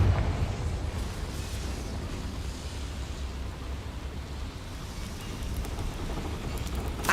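A Confringo blasting curse explosion in the Hogwarts Legacy video game, a loud, dense rumbling blast that holds steady as a continuous roar for the whole stretch without a clear decay.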